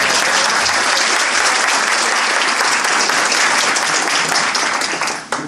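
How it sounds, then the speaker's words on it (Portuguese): Audience applause at a business seminar fills the room steadily and loudly at close range for about five seconds, then thins out and tapers off at the very end. "Elas vão gostar de ouvir as palmas de vocês."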